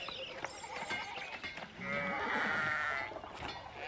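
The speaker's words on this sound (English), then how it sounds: "Sheep are blocking the way." Sheep in the medieval adventure video game Pentiment bleating close by, a long wavering bleat in the middle with shorter calls before and after over faint background ambience, no talk.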